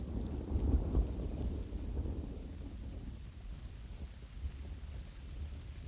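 Rain falls steadily in Britain as a broad wash of noise, with a deep rumbling swell at the start that fades to a softer patter.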